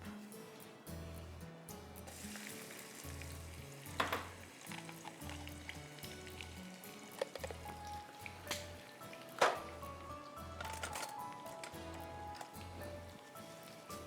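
Chopped onions frying in a pan while cooking Rajasthani bhuna gosht, a steady soft sizzle running throughout, with occasional louder clatters of stirring or utensils and background music.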